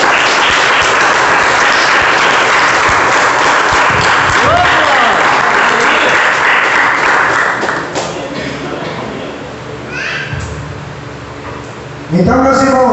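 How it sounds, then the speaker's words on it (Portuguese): Church congregation applauding during a sermon: a loud sustained burst of clapping that thins out midway, with voices and a few thuds following. "Olha a salva de palmas de Jesus."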